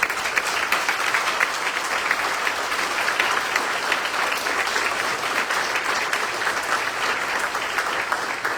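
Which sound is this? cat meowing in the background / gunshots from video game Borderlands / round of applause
round of applause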